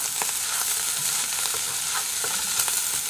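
Fried rice is stir-fried in a pan to drive off moisture, a loud continuous sizzle with scraping spatula strokes and light clatters at irregular intervals, close up and with no talk.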